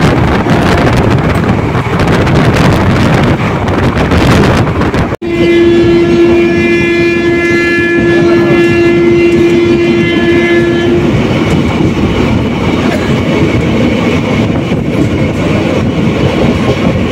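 The 13465 Malda Town Intercity Express running at speed, heard from on board as a loud continuous roar of wheels and rushing wind, with a long sustained horn blast sounding midway.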